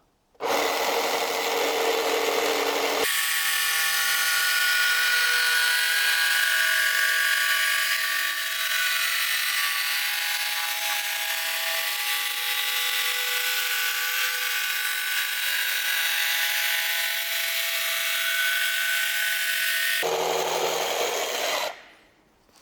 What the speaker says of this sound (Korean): 자, 이 직소로 일단 한번 그럼 또 이 MDF를 잘라 보겠습니다.